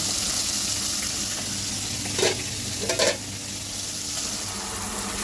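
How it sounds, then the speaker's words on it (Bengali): Fish fries in a pan with a steady hiss of hot oil, broken by a couple of brief louder crackles and stirring sounds. "এখানে মাছটাও ভাজা হয়ে গেছে"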